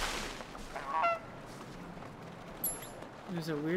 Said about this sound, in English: Let's go get the goose first.